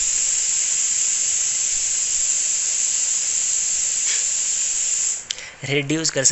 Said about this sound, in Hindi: मैं रिकॉर्डिंग कर रहा हूँ और वहाँ बाहर कुकर की सीटी बज गई